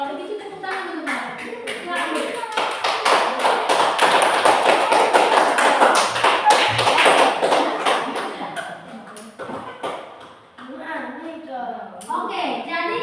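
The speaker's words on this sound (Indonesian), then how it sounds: "kalau begitu tepuk tangan teman-teman" Students in a school classroom clap together in a lively burst that swells and then fades, with children's voices talking before and after.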